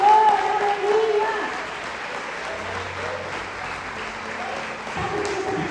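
A church congregation bursts into applause, loud clapping at first that eases into a softer, sustained patter, with a voice speaking over it.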